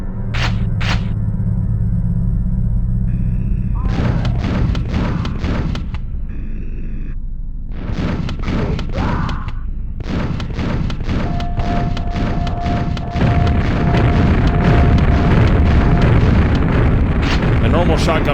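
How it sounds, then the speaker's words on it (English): Shotgun blasts and booming explosions from the Nineteen Ninety-Seven Nintendo 64 game Quake 64 on nightmare difficulty, played on real N64 hardware, come in loud repeated bursts with a steady tone later, mixed with game sounds and a speaking voice. "The normal shotgun becomes really handy in these type of situations."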